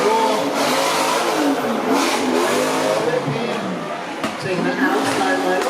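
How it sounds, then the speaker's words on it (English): A Nissan 180SX drift car roars and revs on track during a drift series qualifying round in Miri, Sarawak, its engine a sustained loud, rough drone with some talk in the background. "Can you hear that? Engine roar."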